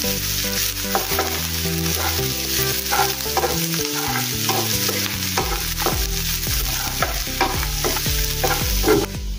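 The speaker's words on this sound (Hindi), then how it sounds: "अच्छे से मैंने भून लिया था अपने प्याज को।" Onions sizzle and crackle steadily in a hot pan while cooking bhindi aloo besan sabzi, with a constant frying hiss and occasional scraping stirs; no talking.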